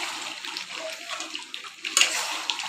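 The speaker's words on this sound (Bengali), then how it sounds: "এবার জল দিয়ে দেওয়া হবে, একটুখানি তো গ্রেভি লাগবে," Water is poured into a pot of cooked, spiced meat that has already released its oil. It makes a soft, continuous splashing trickle at close range with a brief brighter splash near the end.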